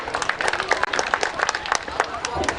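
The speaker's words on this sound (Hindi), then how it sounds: "जोरदार ताली साथ उनका हम सब आमंत्रित करें" Applause from an audience at a live municipal gathering in Sarlahi, Nepal, with dense, steady clapping from many hands and some crowd murmur underneath, loud and sustained throughout.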